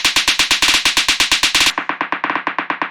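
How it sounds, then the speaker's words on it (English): Snare drum from a raw techno groove repeats in fast, even hits, bright and loud at first, then low-pass filtered so the later strikes sound muffled and thinner, with no voices over it. "And then the snare sounds like this"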